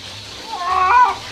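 A cat meows and wails in protest while being soaked with water during a bath, one drawn-out distressed yowl rising then fading, close and fairly loud over faint background noise.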